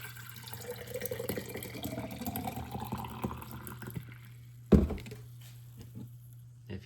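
Sweet tea pours into a glass mason jar as a soft, faint trickle over a steady low hum, with one sharp knock near the end.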